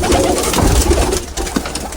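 Pigeons in a cage coo steadily and close by, their soft throaty calls overlapping with light rustling and no talk.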